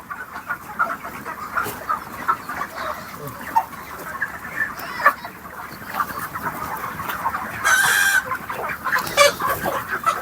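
Chickens cluck steadily and close by on a poultry farm, a mix of 45-day-old hens and roosters, with overlapping calls and a louder, drawn-out squawk near the end.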